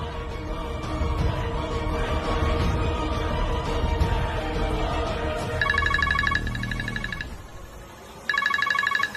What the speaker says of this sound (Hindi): ऐसा लगा किसी का फोन बजा,